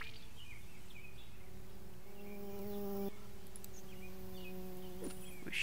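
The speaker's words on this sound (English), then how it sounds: "We should be able to add some more bees to this then." Honeybees in the beekeeping simulator game Boss Beek, a continuous buzzing drone that holds steady throughout, layered with a few sustained tonal hums, and no speech.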